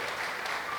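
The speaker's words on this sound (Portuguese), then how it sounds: "Vamos aplaudir o Senhor" A church congregation applauding during an online Bible school service, a brief, faint wash of many hands clapping together at a distance, low and even.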